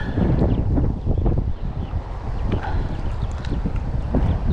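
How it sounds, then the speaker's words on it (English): Gusting wind out on the water during a bass fishing trip, buffeting the microphone with a loud, continuous low rumble that swells and dips. "the wind is picking back up"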